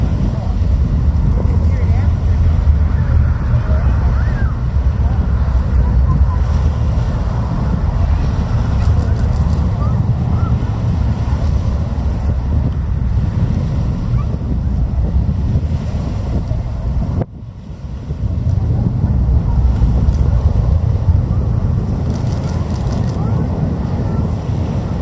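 A rocket launch at Cape Canaveral rumbles as a deep, continuous roar, steady and broad, mixed with wind buffeting the microphone, with one brief dip near the end.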